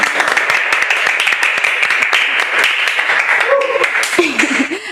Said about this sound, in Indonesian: tepuk tangan untuk narasumber kita hari ini